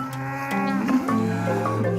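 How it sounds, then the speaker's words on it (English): A herd of cows that escaped a nearby farm onto a rural French glamping site moos loudly and close by, with two long overlapping calls and no talk. "A herd of cows has escaped from a nearby farm, and now they're roaming wild on the glamp site."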